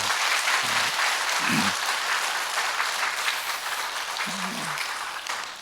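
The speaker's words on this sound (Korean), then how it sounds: "여러분 크게 박수 한번 해주세요" A church congregation at an early-morning service applauding, a broad steady wash of clapping that fills the room and tapers off at the end.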